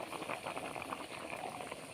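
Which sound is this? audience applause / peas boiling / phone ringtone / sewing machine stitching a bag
peas boiling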